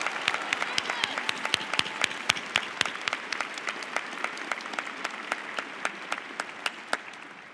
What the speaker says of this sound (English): please join me in a hearty round of applause for congratulating all our special award recipients